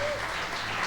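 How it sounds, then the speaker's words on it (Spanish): Brief applause from a church congregation during a Sunday service, quiet and steady, with a faint tone near the start. "Dámosle un fuerte aplauso también a"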